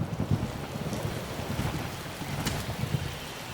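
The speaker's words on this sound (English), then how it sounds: "Oh god, it's raining." Rain and thunder in the video game Spore: a dense, steady patter of rainfall with low rumbling underneath, moderately loud and continuous, no voices.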